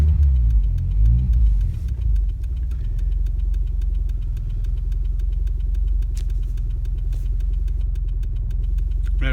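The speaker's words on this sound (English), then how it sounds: "Might take a few cranks because it's obviously the fuel rail's empty." A Volvo 940 turbo with new injectors and an empty fuel rail cranks briefly in a low uneven churn, then catches and settles into a loud, steady, rhythmic idle close by, no talking.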